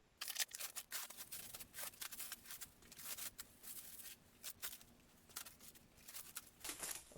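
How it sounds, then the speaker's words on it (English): Cling film is peeled and crinkled off Japanese 78 rpm records up close, a quiet run of irregular crackling rustles and soft bursts with no voice. "it's going to take me a while to unwrap this cling film"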